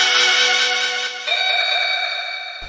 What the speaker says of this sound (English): So you can hear it's just two like shout samples like this.